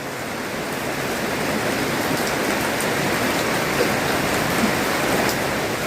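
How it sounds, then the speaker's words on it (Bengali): Heavy rain pours down steadily outside a village home, a dense, even hiss of drops hitting surfaces that stays constant and close, with no voices. "আর এই দেখো বৃষ্টি হচ্ছে, আবার জোরে বৃষ্টি হচ্ছে।"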